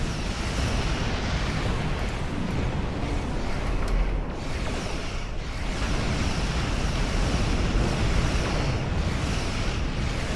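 Explosions in a space battle video game form a dense, steady roar of rumbling blasts that fills the whole clip, loud and continuous without clear breaks.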